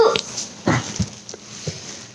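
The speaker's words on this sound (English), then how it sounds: "This is my dog." A small dog whimpers close by, giving several brief, high yips and whines separated by short pauses.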